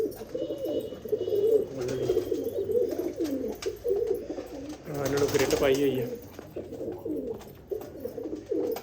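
Breeding pairs of pigeons kept in a loft coo repeatedly in throaty, rolling bursts close by, while someone talks over them.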